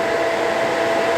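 Steady AC arc from TIG welding an aluminum custom fan shroud for an LS-swapped Land Rover Defender, a close, even buzzing hiss that holds without a break.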